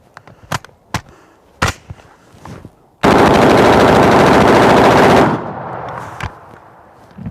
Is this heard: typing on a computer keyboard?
no